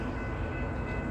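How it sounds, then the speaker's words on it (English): An Amtrak passenger train passes at speed close by, giving a dense, steady rumble with a faint high tone over it, heard briefly and alone. "Watch out, here comes the Amtrak."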